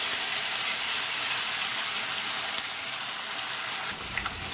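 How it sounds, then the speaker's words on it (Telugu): Chicken masala with yogurt frying in a pan while being stirred, a steady close broadband sizzle and hiss running throughout with soft scraping, no voices. "ఇలా మనం పచ్చివాసన పోయేంత వరకు బాగా ఇలా కలుపుతూ ఉండాలి"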